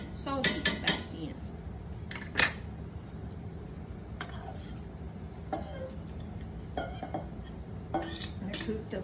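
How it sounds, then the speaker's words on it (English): Cooked sausage goes back into a skillet and is folded through a thickening mixture, with a run of sharp metal spoon clanks and scrapes against the pan over a quiet background. "I'm gonna go ahead and add my sausage back in."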